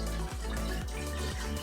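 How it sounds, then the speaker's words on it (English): Warm sugar water for kombucha pours steadily into a glass container, a loud, close, continuous liquid rush with repeating gurgling ripples. "we will start off by pouring our"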